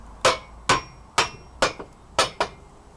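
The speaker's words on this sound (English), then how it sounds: "the rubber mallet" Rubber mallet hammering a bolt into a restored 65 kg German blacksmith vise. Six sharp, close blows land at a roughly even pace, and a few are followed by a small rebound tap, with quiet between them.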